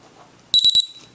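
A small LiPo battery low-voltage alarm carried on an FPV Easy Star model plane gives three quick, sharp, loud beeps against a quiet background.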